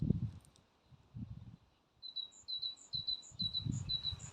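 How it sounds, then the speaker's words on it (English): Small birds chirp outdoors in a bee-friendly spring garden, a run of short high tweets repeating through the second half over soft wind and low rustling, moderately distant and fairly faint. "Listen to the birds and the wind and the rustling of the leaves."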